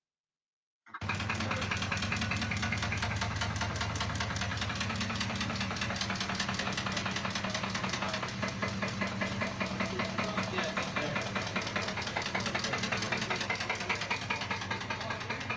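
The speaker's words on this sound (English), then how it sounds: "I've also got a video of an engine knock. This is what happens when a bearing goes bad." Engine knocking from a bad bearing in a student's vehicle, a harsh, rapid, steady metallic rap repeating over the running engine for about fifteen seconds, close and continuous after a sudden start.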